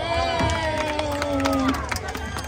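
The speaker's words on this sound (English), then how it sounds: "Please give your captain a big round of applause" Passengers cheer and shout for a boat captain at the end of a Legoland California coast cruise ride, a loud, dense crowd of voices including children, with a few claps mixed into the close, steady commotion.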